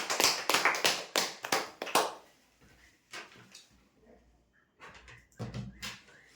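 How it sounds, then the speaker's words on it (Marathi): A quick burst of sharp, separate hand claps rings out at a weekly prize draw, loud and close at first, then fading into scattered, quieter claps and room noise. "जोरदार टाळ्या होण्यासाठी"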